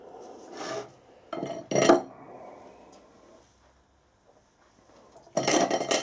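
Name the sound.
deburring a machined metal liner puller adapter piece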